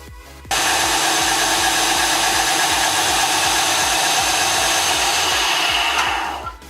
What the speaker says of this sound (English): we take the belt grinder and sand off this edge right here